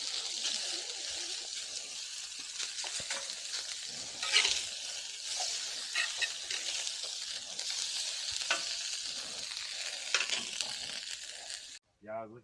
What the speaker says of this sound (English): Potatoes are getting crispy